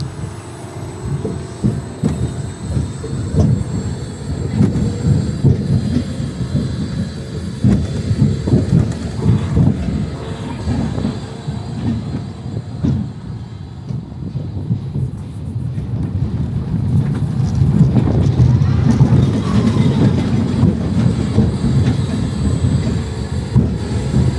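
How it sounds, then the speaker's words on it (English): An SBF Visa spinning roller coaster, Caldwell's Crazy Coaster, at Lake George Expedition Park, rumbling continuously up close as the cars roll along the track. The heavy, rushing roar swells louder toward the end. "I just went for a front row spin on Caldwell's Crazy Coaster"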